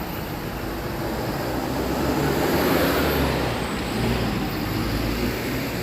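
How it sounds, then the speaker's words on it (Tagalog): A bus passes along a street on a rainy day, its engine rumble swelling to a peak midway and then easing off against a steady wash of broadband background noise. "Yun yung bus."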